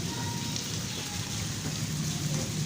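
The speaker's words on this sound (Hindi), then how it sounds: "और बारिश हो रही है।" Rain pours down steadily in a heavy, even hiss on surfaces, with no voices heard over it.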